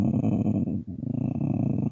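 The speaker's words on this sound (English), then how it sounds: "I growl to clear my throat" A person growls low in the throat to clear it, a close raspy rumble with a brief break midway before resuming.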